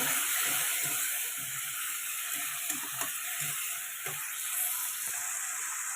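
Fish curry bubbles and sizzles in oil in a pan after a splash of water is added, a steady close hiss broken by soft stirring scrapes.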